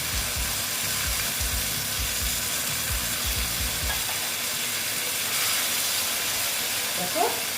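Okra frying in a pan gives a steady broadband sizzle and hiss, with soft stirring and scraping near the start and a faint voice in the background.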